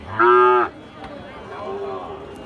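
A Sahiwal bull calf at a rural cattle market gives one loud, short moo, followed by a fainter, lower bellow from another animal amid a quiet outdoor murmur.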